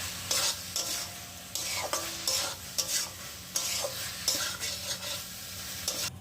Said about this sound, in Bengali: সবটা খুব ভালোভাবে একসাথে নেড়ে চেড়ে নিচ্ছি।